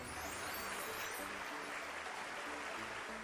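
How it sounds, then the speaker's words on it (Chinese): A studio audience on a Chinese opera television show gives a long, even burst of applause that washes across the whole moment, with a voice faintly underneath. "咱们也响起掌声欢迎他们好吗？"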